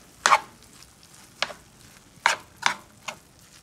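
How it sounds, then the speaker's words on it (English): Cauliflower fried rice stirred in a pan over low heat, giving five or six separate scraping, sizzling strokes spaced irregularly against a quiet background. "So I'm just chopping it up and stirring it in."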